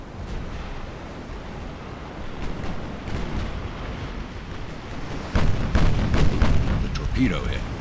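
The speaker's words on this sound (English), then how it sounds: "Torpedo hit." A torpedo strikes a warship in the naval game Ultimate Admiral: Dreadnoughts, 1890s Italian fleet, with rumbling booms of battle building to a heavy, louder blast and crackling debris near the end.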